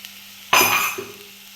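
Curry leaves hit hot oil in a pan with a sudden loud sizzle that flares up, crackles for about half a second, then settles into a softer frying hiss, close by and alone.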